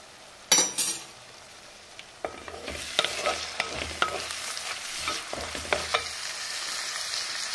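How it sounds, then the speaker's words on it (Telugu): Two medium onions frying in a pan, a soft steady sizzle with a sharp clink at the start and then a run of scraping, clattering stirs, close and fairly quiet. "ఒక 2 ఉల్లిగడ్డలు తీసుకున్నానండి, మీడియం సైజు. వేగనిద్దాం అండి."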